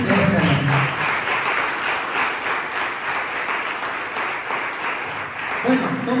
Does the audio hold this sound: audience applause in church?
yes